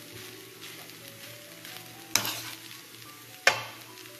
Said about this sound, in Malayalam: ശരിക്കും നന്നായിട്ട് ഇളക്കി കൊടുക്കാം.